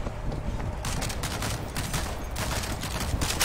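Automated turret in the zombie shooter World War Z firing continuously in dense, rattling bursts, a steady loud wall of rapid shots running throughout with no clear pauses.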